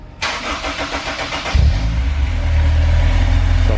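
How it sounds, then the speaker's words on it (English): A car engine starts with a sputtering crank, then settles into a loud, steady idle with a deep low rumble as the clutch is lightly worked during an initial break-in run through the gears. "he's going to run it through the gears and just lightly operate the clutch just to make sure the clutch works properly"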